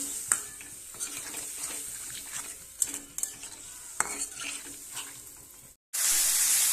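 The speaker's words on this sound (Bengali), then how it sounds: "টমেটো আর আলুটাকে ভালো করে কষিয়ে নেব" Tomato and potato with spices sauté in a pan, a steady sizzle broken by repeated scrapes and clinks of a utensil stirring against metal, then a brief silence and a sudden louder hiss.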